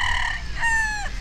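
Game-farm roosters crowing, with two loud, close cock-a-doodle-doo calls one after the other over a steady low background rumble.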